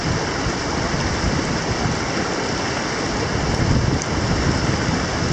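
A waterfall on a spring-fed stream in Cape York, a steady, loud, broadband rush of falling water that continues without a break.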